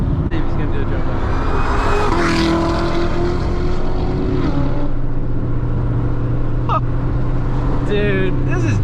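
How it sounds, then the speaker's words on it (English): Loud car engine roaring at close range with rising and falling pitch as it accelerates, with people talking and exclaiming excitedly over it. "Oh, dude, I love this car. That's so loud."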